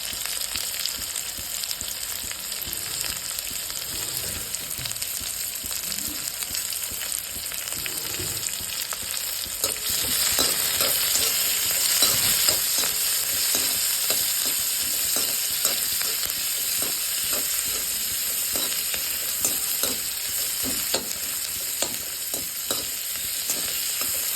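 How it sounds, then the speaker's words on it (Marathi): Sliced onion frying in a pan for a spicy potato bhaji, with a continuous close sizzle and occasional scraping stirs; no one speaks. "कांदा चांगला भाजून घ्यायचं"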